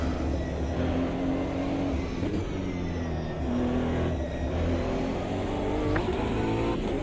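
A BMW GT3 race car in a racing video game roars continuously, its engine note rising and shifting over a dense, steady mechanical drone with no speech.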